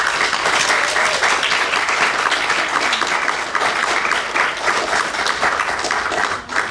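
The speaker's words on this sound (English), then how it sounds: "So please give them a full round of applause." Sustained audience applause at a poetry recitation competition, a dense, loud, even clapping roar lasting several seconds before tapering slightly at the end.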